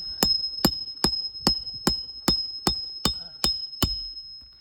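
A hammer drives nails into degraded roof shingles during a roof repair, ten sharp, evenly spaced blows ringing out at close range with a metallic ping on each strike, steady in rhythm and alone without talk.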